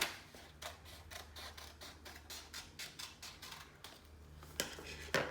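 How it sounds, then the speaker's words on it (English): Scissors snip through folded paper for a paper rocket, a close run of quick, crisp cuts in an uneven rhythm, fairly quiet against a still room. "Get your scissors, cut it straight down the middle on that fold right there."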